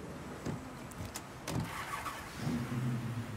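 Car in the Mafia III video game: a steady engine hum with a few thumps and a brief whine, moderately loud, no speech.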